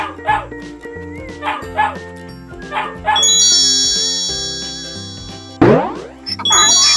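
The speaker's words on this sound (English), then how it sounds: "dog," A dog barks a few times over bright, bouncy music, with a short voice and a boing-like effect nearby.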